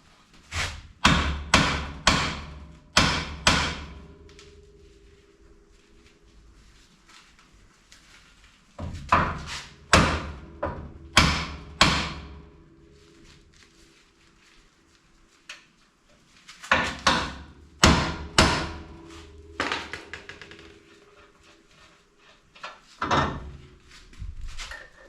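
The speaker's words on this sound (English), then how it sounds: "I'm going to wrap this glove around the steering joint there, so I can give it a shock without making a heap of noise." Glove-muffled shock blows struck on a vehicle steering joint: three clusters of several dull, thudding hammer strikes in quick succession, separated by quiet gaps and heard alone.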